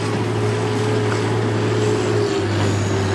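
A heavily weighted pulling tractor idles and runs at a truck and tractor pull in Langford, New York, giving a loud, steady low engine drone with a constant harmonic hum throughout, with no talking.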